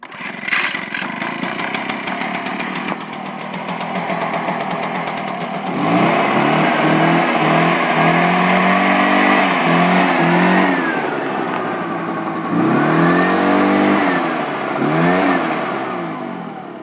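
Echo PB-500T backpack leaf blower, warm-started without choke, buzzes loudly at close range with a two-stroke rasp, then surges repeatedly as the throttle rises and falls in several rev swells.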